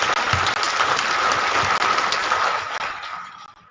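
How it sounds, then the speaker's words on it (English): Audience applause for a welcome address at a ceremony of the Nigerian Armed Forces Resettlement Centre, Oshodi: a dense, steady crowd clapping that holds strong and then tapers off near the end. "a resounding round of applause for that welcome address"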